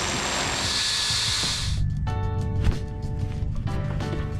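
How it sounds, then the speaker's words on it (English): A small drill bores holes through a small plastic piece for a Land Rover Discovery 3 door trim repair, a steady high whine that stops abruptly, followed by a few light clicks and handling knocks nearby. "So I'm just going to drill"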